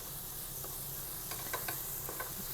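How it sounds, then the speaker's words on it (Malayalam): Spices sauté in coconut oil and ghee for a beef biryani, a soft steady sizzle with a few quick stirring scrapes near the end. "നമ്മുടെ വെളിച്ചെണ്ണയ്ക്കകത്ത് നെയ്ക്കകത്ത് ഒക്കെ ഇട്ട് നന്നായിട്ട് ഒന്ന് വഴറ്റി എടുക്കണം."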